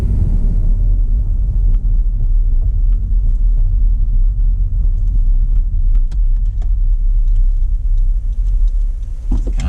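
Interior of a car driving through Redford Township toward Plymouth Road, a steady low engine and road rumble with tire drone that holds throughout, punctuated by a few faint ticks and knocks.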